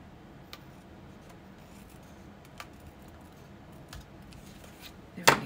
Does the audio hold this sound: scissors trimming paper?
yes